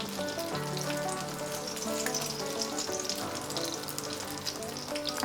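Masala egg toast frying on a hot griddle (tava), a steady dense sizzle and crackle that runs unbroken throughout with no talking.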